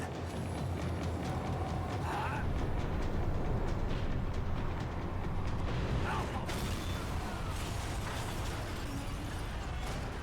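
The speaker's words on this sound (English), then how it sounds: "The tram was slowing down" A tram in Max Payne 3 rumbles and clanks steadily as it slows down, with dense mechanical rattling and rail noise filling the scene at a constant, fairly loud level.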